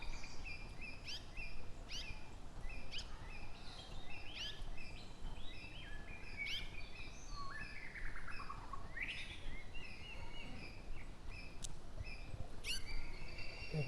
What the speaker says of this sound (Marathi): मस्त पक्ष्यांचे आवाज आहेत.